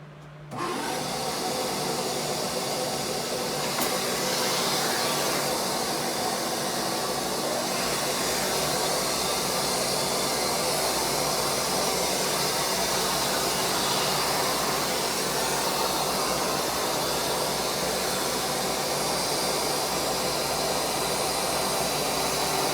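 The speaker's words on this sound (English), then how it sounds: "It's gonna get kind of loud because I've got a vacuum that I'll be using" A loud, steady roar of a shop vacuum and an end mill grinding jig runs continuously without pause, a dense whooshing hum that never changes.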